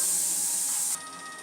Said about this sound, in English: Wait for 2 minutes for the steam to settle down.